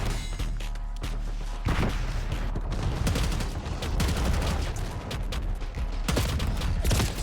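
Gunfire in the video game Call of Duty: Black Ops 6, with repeated bursts of rapid shots over a dense, continuous backdrop of game noise, fairly close.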